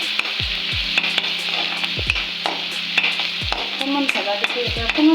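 Egg Maggi noodles with tomato sauce and red chilli being stirred in a pan, a spatula scraping in repeated strokes over a steady close sizzle.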